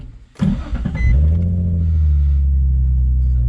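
A modified 2005 Nissan 350Z with its VQ V6 engine, heard from inside while driving: a sharp burst of revving, then a loud, steady low exhaust drone that holds to the end with no talking.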